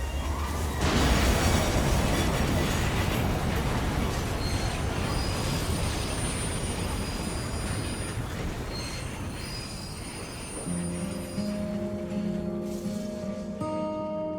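A high-speed train brakes hard from around 100 km/h on China's Wenzhou line, its wheels shrieking in a loud, sustained metallic squeal and grind that thins into a few piercing tonal whines near the end.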